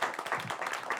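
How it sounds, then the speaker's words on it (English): A live audience at a talk-show taping claps briefly, a short, moderately loud burst of applause that swells and fades within about a second. "Can we give her a round of applause?"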